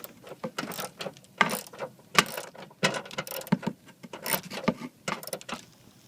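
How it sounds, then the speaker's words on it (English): A ratchet with a 10mm socket clicks in repeated bursts while tightening a fitting on a Ford's electric shift-on-the-fly 4x4 system, the ratcheting strokes close and fairly loud with short pauses between them. "Go ahead and put that back on with my 10mm socket."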